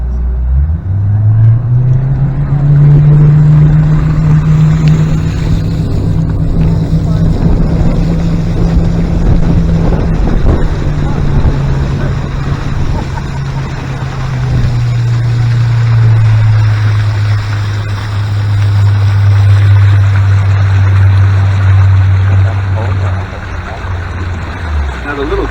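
Tour boat motor on Lake Virginia, a steady low drone holding throughout with a slight dip in pitch midway, close and loud, with wind and water noise around it.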